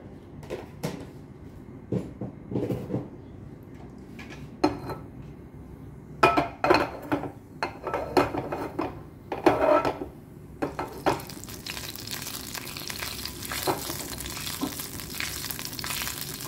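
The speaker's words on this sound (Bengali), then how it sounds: "এখন আমি তেলটা হালকা গরম হয়ে গেছে, এখন দিয়ে দেব এই যে একটুখানি জিরে দিচ্ছি ফর ফ্লেভার" Cumin seeds dropped into lightly heated cooking oil sizzle and crackle in a pan, with scattered clatters and stirring knocks early on, then a steady close frying hiss fills the last few seconds.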